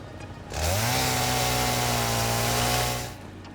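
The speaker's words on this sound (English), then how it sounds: "Is there a way to specify this chainsaw to only cut down one thing?" A chainsaw in the video game Satisfactory starts up and runs as it cuts down a tree, a loud sustained buzzing whine that rises in pitch and holds steady for a few seconds before cutting off.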